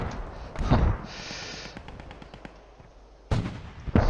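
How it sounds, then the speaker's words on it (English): Shots striking an enemy tank in a multiplayer war video game: sharp, booming impacts and bursts that crack out at the start and again near the end, with a steadier rumble of battle between them. "We are hitting the enemy tank."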